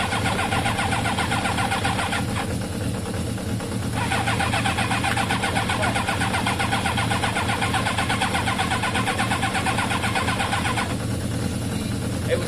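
A Kawasaki ZL600 motorcycle engine being started with difficulty, a steady close cranking and chugging drone that runs for the whole stretch with slight surges, loud, with no talking.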